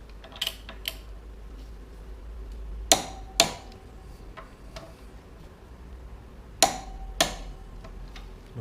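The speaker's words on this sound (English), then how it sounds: "And then the torque wrench, my friend." A torque wrench tightens brake caliper bolts on a Yamaha XJ900F motorcycle, giving a few sharp close clicks that come in pairs, separated by quiet pauses with no talk.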